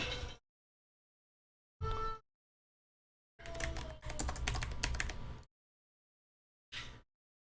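Bursts of typing on a computer keyboard, four separate flurries of keystrokes with silent gaps between, the longest about two seconds of rapid clicking, close and clear with no talk.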